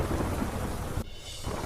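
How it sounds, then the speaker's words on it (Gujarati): Heavy pre-monsoon rain with strong wind and thunder in Aligarh, Uttar Pradesh, makes a dense, loud roar of downpour and rumble that drops away suddenly partway through, then returns more softly, with no voices. "ભારે પવન સાથે પડ્યો ધોધમાર વરસાદ."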